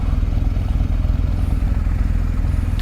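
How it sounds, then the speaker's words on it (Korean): Loud, close motorcycle engine running steadily throughout with a deep, continuous rumble and slight revving, no talk over it. "시끄러운 바이크 한번 찍어보자"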